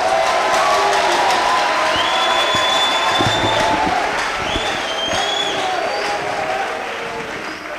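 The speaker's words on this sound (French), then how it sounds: "Applaudissez pour le Seigneur." A church congregation at a New Year's service applauds and cheers, a loud dense crowd roar with clapping, whoops and voices calling out, gradually easing off.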